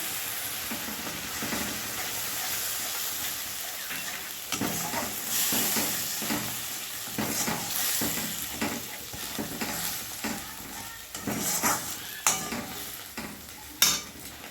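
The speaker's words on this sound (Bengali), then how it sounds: "এবার আমি নারকেলের দুধটা দিয়ে দিলাম।" Coconut milk hits a pan of frying crab masala for crab malaikari, giving a steady close sizzle and hiss with repeated stirring scrapes throughout, no voices.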